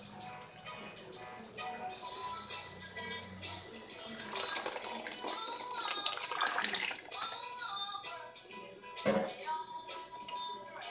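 Blended sauce pours and splashes into a pot of simmering beef for a Mexican carne en su jugo, followed by wet stirring, sloshing and clattering utensils, fairly quiet and close.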